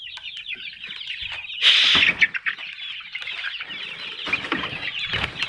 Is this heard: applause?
no